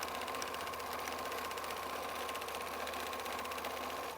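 A sewing machine backstitches to the end of a strip seam on a quilt-as-you-go strip quilt, a steady, even motor whir with fast needle chatter running unbroken at moderate volume, no voices.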